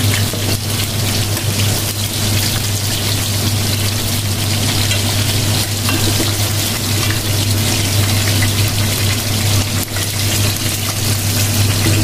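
Fish fries in hot oil in a pan, a steady loud crackling sizzle with a low hum beneath, continuous throughout with no talking.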